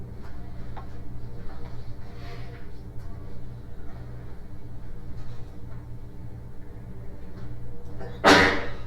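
During a school board policy committee meeting, someone sneezes once, a sudden sharp burst near the end that stands out above the quiet room tone and faint ticking.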